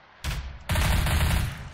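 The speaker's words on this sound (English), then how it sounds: "I guess I will shoot you." Gunfire from Left 4 Dead 2 played in Garry's Mod: one loud burst, then a longer sustained barrage of rapid shots lasting over a second, close and dense with no talk.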